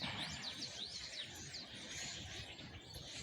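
A flock of small birds chirps and tweets continuously outdoors, many overlapping high, quick calls at a moderate distance over a soft background hum.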